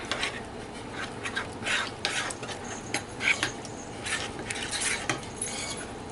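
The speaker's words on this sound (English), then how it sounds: "So I'll continue to stir till it gets a little bit thick there" Stirring a banana split fruit salad mixture as it thickens like pudding, a spoon scraping and clinking against the bowl in a steady, repeated rhythm, close and fairly quiet with no talk.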